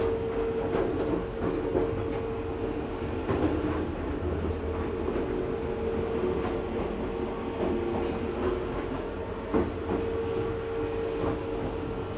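Steady, close rumble and rattle of a Vande Bharat Express carrying from Howrah to New Jalpaiguri, heard onboard between Malda Town and Barsoi Junction, with continuous wheel and track noise and a faint sustained hum throughout.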